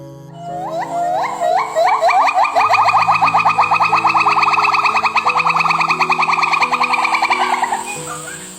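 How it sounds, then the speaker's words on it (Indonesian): A Javan gibbon, an ape found only on Java, gives a loud, rising series of whooping calls that speed into a rapid trilling run and then fade. A lower steady tone plays under the calls, and no one speaks. "Suara itu berasal dari owa Jawa, primata endemik Indonesia yang hanya dapat ditemukan di Pulau Jawa."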